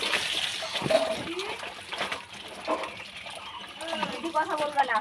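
Clothes being washed by hand in water, with intermittent splashing, sloshing and wringing, close by, while someone talks over it.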